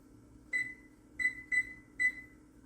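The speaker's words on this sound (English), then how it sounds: "I'm going to set my timer for 25 minutes." A kitchen timer is set for 25 minutes with four short, clear electronic beeps, one alone and then three in quicker succession, near and distinct over a low steady hum.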